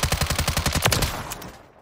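A rapid, loud burst of automatic fire from the NG-LVAW assault rifle on a firing range in Call of Duty Modern Warfare III, about a dozen evenly spaced shots close up, ending in a short fading echo.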